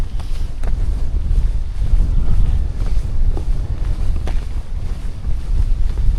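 Strong wind buffeting on an exposed hiking trail along the Dales High Way, loud continuous low rumbling gusts battering the microphone with no voices.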